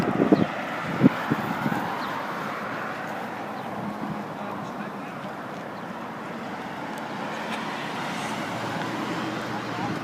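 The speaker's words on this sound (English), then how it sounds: "A lot of traffic, a lot of honkers." Road traffic streams past a roadside protest camp, a continuous broad wash of vehicle noise at moderate distance with a few brief louder bumps near the start and faint voices beneath.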